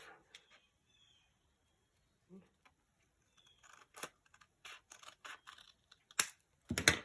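Scissors snip through junk mail paper to trim overhang on a handmade pocket, giving a few quiet crisp cuts and rustles, with a louder burst of handling near the end.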